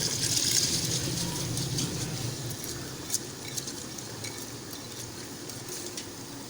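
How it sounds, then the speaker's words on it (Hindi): Rice simmering in boiling chicken stock for smoked chicken pulao, giving a steady low bubbling and soft sizzle that runs continuously at moderate level, with faint clinks near the start. "अब ये इसमें बॉयल्स आना शुरू हो चुके हुए हैं"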